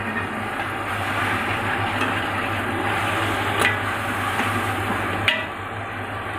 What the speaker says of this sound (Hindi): प्याज हमारा फ्राई हो गया, अब हम इसमें लहसुन डालेंगे।